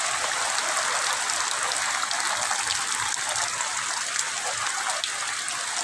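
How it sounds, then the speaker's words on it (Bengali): Heavy rain pours down steadily in Satkhira, a dense, constant hiss of falling water with no pauses, loud and close throughout without any voices. "দেখেন বন্ধুরা প্রচণ্ড বৃষ্টি"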